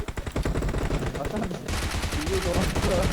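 Rapid automatic gunfire from the mobile battle royale game PUBG Mobile crackles in dense, loud bursts throughout, with players shouting and talking over the shots.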